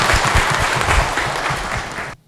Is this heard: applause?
yes